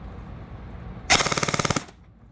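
A CYMA Standard M4 airsoft electric rifle with a built-in MOSFET, running on an 11.1 V LiPo, fires one short full-auto burst of about a dozen rapid, evenly spaced mechanical cracks. The burst is close and loud after a quiet lead-in.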